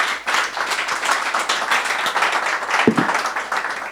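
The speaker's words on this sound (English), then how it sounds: "Please, a round of applause for the panelists." Audience applause for the panelists at the close of a Nigerian security forum, a moderately loud wash of clapping with a few sharper individual claps standing out.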